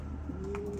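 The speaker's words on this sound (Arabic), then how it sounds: "هاي الطيور" A single soft pigeon coo sounds faintly among a small flock kept on a rooftop loft, a brief low warble over a quiet background.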